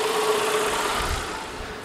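A car engine idles steadily during a test with a Foxwell BT-705 battery analyzer, a continuous low hum and vibration with a faint tonal whine, close and unbroken, with no speech.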